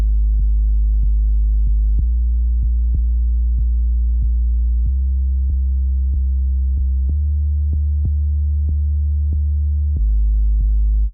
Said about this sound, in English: Let's listen to what the bass is doing.